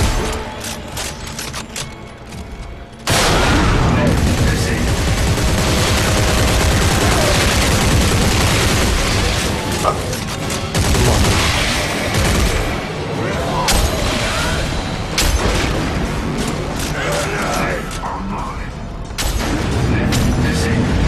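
Weapon fire in Dead Space 3: rapid bursts of gunshots and machine-gun-like fusillades with occasional booms, loud and nearly continuous after a quieter opening, with mechanical clanks mixed in.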